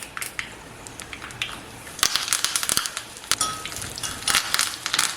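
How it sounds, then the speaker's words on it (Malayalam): Mustard seeds, dried red chillies and curry leaves tempered in hot oil for an Onam pachadi of ginger and okra, with a crackling, popping sizzle of scattered sharp snaps that grow denser partway through. "കുറച്ച് എണ്ണ ഒഴിച്ച് ഏകദേശം ഒരു 1/2 ടീസ്പൂൺ കടുക്, 2-3 വറ്റൽമുളക്, കുറച്ച് കറിവേപ്പില"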